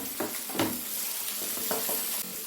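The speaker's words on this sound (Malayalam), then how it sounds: "ഇനി നമുക്ക് നമുക്കൊന്ന് ഇളക്കി യോജിപ്പിക്കാം" Soybean egg masala being stirred in a pan, with soft scraping and light sizzling strokes in a few close bursts, no voices.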